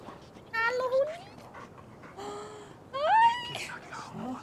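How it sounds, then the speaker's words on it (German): A dog pants and whimpers in Assassin's Creed Valhalla, with short airy breaths and whines in bursts over game ambience and music; no one speaks over it. "Oh, da ist ein Hundi!"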